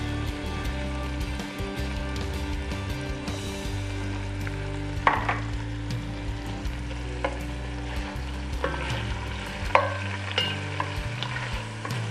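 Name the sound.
sirloin chunks browning in hot olive oil, stirred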